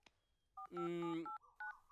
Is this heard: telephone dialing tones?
yes